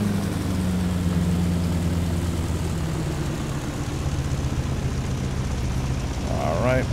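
Loud, steady low drone of a B-17 Flying Fortress bomber's engines in a flight video game, with a constant rumble throughout and brief higher tones near the end.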